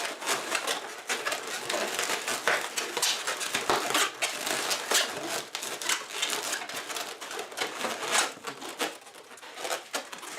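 A latex balloon is pinched and twisted, giving a string of dense squeaks and rubbery rubs in irregular bursts, close up and fairly loud, with no talking.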